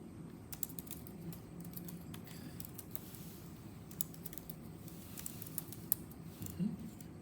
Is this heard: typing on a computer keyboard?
yes